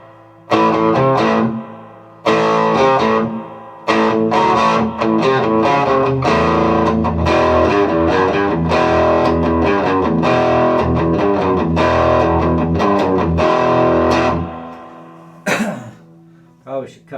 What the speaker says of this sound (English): Now, everybody likes a tube screamer